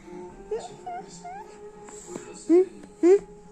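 A cat meows several times, with two louder rising meows near the end, over a low background hum and faint noises.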